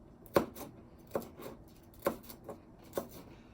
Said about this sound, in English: because we're making a salsa, you want to chop it up fine